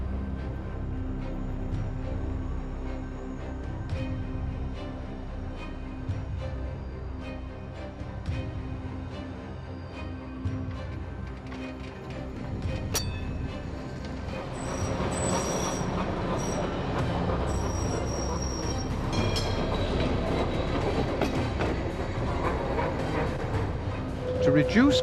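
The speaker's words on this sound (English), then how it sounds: "Motorcar 42 and trailer 15 en route to the railway station." An East German tram, motorcar 42 coupling trailer 15, rolls along rails toward a railway station, with a continuous rumbling drone, clattering wheels and rising metallic squeal, growing louder and busier in the second half; a voice narrates over it.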